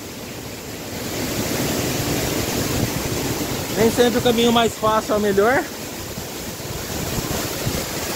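Waterfall along a jungle trail with icy water, a steady broad rushing roar filling the scene while a person speaks briefly over it.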